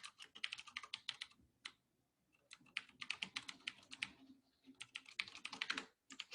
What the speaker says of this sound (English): I'm just typing random shit in the middle of the class.